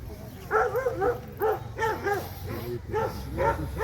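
Several short, sharp hunting dog barks in quick bursts at a hunting dog show, close by, repeating with brief pauses over a low background murmur.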